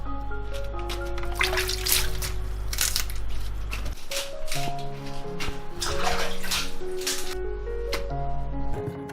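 Napa cabbage being washed under running tap water, a steady splashing stream with squishing and handling of the leaves, close, with a faint musical backing underneath.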